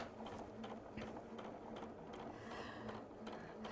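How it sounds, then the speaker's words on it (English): A sewing machine stitches a quarter-inch seam in steady, continuous running bursts with a faint mechanical hum, fairly close and at low level, with no talk over it. "I'm just sewing in a quarter of an inch seam"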